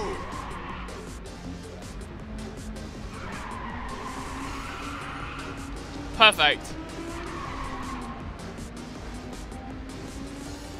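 A Lamborghini-like Meltfire race car with six gears, driven in Ridge Racer 6, drones a steady engine note, broken midway by a short, sharp tire squeal, while a voice talks over it.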